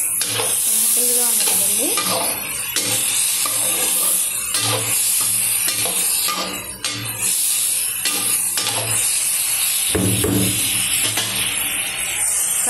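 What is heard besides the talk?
mixed vegetable curry frying in a pan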